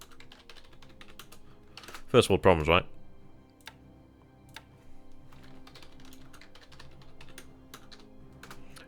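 Close, steady clicking of a computer keyboard as someone types in quick bursts, with a short spoken remark partway through.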